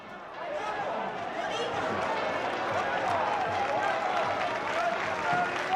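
Emotional crowd of devout worshippers gathered outside a Spanish church as a statue of the Virgin is carried aloft, a dense, steady roar of voices and clapping building slightly and sustained throughout.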